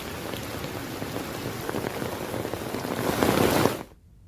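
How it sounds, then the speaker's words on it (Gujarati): Heavy monsoon rain in Gujarat pours in a dense, steady patter that swells slightly before cutting off abruptly near the end. "રાજ્યમાં ભારે વરસાદની સ્થિતિ છે."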